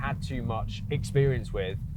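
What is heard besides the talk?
No distinct noise like a dog, phone or traffic.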